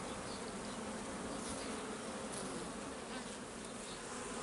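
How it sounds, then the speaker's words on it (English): Dense, continuous buzzing of many honey bees flying around a hive, steady and close with no voices. "there are so many flying bees in this hive"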